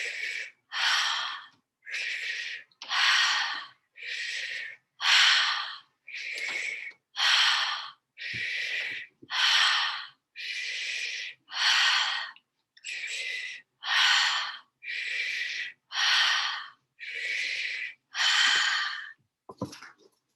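Forceful rhythmic breathing during a Svadhisthana chakra meditation class, about seventeen sharp, breathy exhalations at an even pace, close and clear with no talking.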